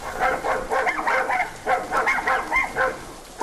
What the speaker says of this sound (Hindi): कुत्तों को आज क्या हो गया है? इतना क्यों भौंक रहे हैं?